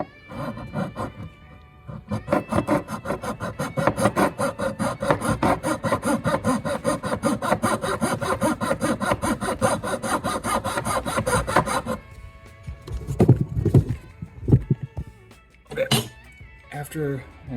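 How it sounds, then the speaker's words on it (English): A hand file rasps rhythmically across a wooden guitar body in fast, even strokes for about ten seconds, then stops and is followed by a few scattered knocks and handling sounds. "I decided to try the file again"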